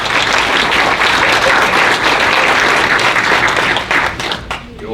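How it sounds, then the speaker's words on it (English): Audience applause at a Windsor High School awards ceremony: dense, sustained clapping from a large crowd fills the room, thinning and fading near the end as a voice begins to speak. "You only have to applaud for me one more time"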